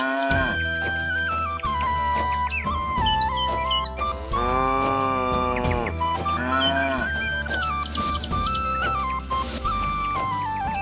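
Cattle low repeatedly in long, drawn-out moos, set against continuous loud music with faint bird chirps in the background.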